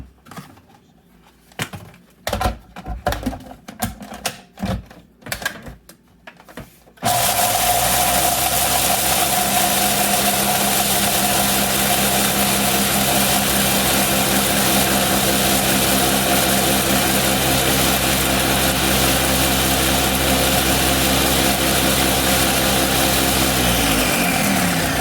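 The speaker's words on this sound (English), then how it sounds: "I'm gonna put them in my Ninja and get them all blended up here." A Ninja blender pulverizes carnivore crisps into crumbs, its motor starting after a few seconds of clattering handling and then roaring loud and steady close by for the remainder.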